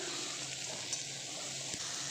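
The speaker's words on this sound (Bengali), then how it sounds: "আমি পেঁয়াজটা এখন ভালো করে চলো ভাজা ভাজা করে নিই তেলের সাথে" Sliced onions fry in oil in a pan for a thin mutton curry, a steady, soft sizzle and hiss that holds evenly throughout, with a couple of faint stirring scrapes.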